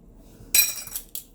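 A metal spoon scrapes and clinks inside a spice jar while scooping cayenne pepper for a peanut stew, one bright close rattle followed by a shorter second clink.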